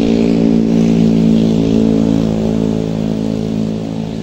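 A bus on the Lingkar Gentong road near Tasikmalaya, one of the intercity coaches on routes like Jakarta–Pangandaran or Bekasi–Tasikmalaya, drives past close by with a loud, steady engine drone and a strong low hum that fades slightly at the end.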